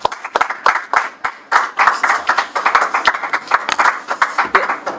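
Audience applause at a public event honouring a human rights advocate and CEO, a dense, steady crowd clapping sustained loudly throughout with sharp individual claps standing out near the front.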